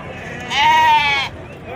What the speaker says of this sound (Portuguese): Bode grandão, ó. Tá vendo? Ó o bode.